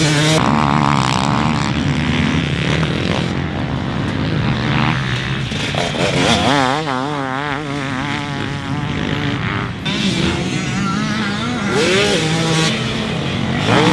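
A 2023 GASGAS MC250 two-stroke motocross bike engine revs hard and continuously, a loud, buzzing, rising and falling whine with no talking.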